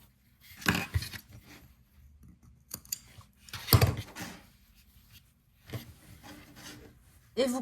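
Scissors snip excess yarn from a Tunisian crochet scarf, a few short, close cuts and rubbing sounds separated by quiet pauses.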